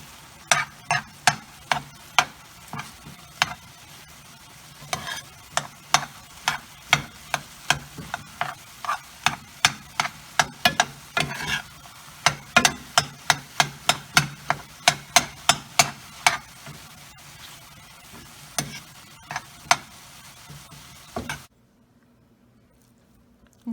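Repeated scraping and tapping of a utensil stirring salted, peppered meat in a pan on the stove, a steady rhythm of clacks over a soft sizzle that stops abruptly near the end.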